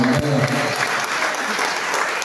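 A church congregation breaks into applause and acclamations during a deliverance prayer service, a short burst of dense clapping with brief voices at the start, then a steady wash of claps.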